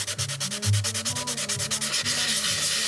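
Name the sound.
dry sanding model airplane near decals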